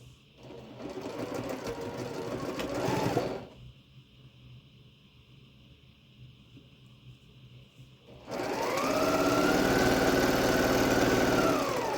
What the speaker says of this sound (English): we're just going to sew the red and the white together